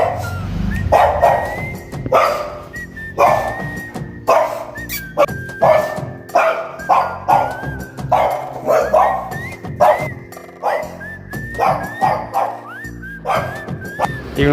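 A dog at a house where deliveries arrive barks repeatedly, loud and close, in uneven bursts of sharp woofs broken by short yelps and whines, going on without pause and with no talk.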